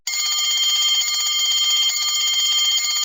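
An electric bell rings inside a bell jar with a steady, bright metallic trill. It sounds loud and continuous for about three seconds, with no talk.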